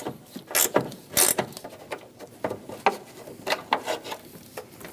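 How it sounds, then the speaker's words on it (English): A 13mm wrench ratchets in a quick series of metallic clicks and clatters while loosening the bolt holding the washer fluid bottle on a Chevrolet Express 2500 van, close and clear. "We're going to remove the bolt for the bottle."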